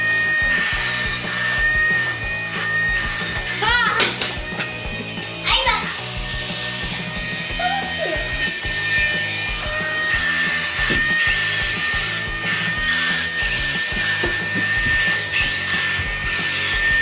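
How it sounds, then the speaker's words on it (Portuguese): A small Japanese-made wall vacuum cleaner runs with a continuous high-pitched motor whine and airy hiss, while people, including a child, talk over it. "Ele tá aproveitando e já tá limpando a parede também, que é um tipo de um aspiradorzinho."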